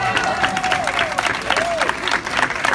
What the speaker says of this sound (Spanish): Aplauso para ellas